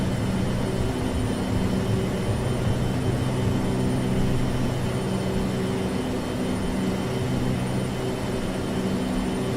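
Airplane engines drone during the takeoff roll toward rotation at about 135 knots, a steady loud cabin hum with a low rumble that stays constant throughout, no talking.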